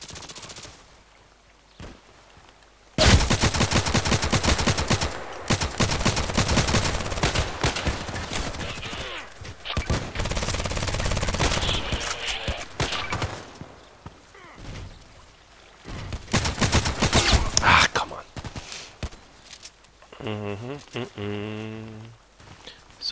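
Shotgun fire in the online shooter Contract Wars comes as bursts of sharp, loud blasts packed into dense stretches with brief pauses, followed near the end by a reloading clatter, while a player talks at times.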